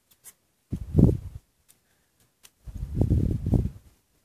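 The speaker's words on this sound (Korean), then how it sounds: "테이프로 붙여줍니다." Tape is pressed and smoothed onto a tiny miniature piping bag for chocolate cream, two short close rustling bursts separated by quiet.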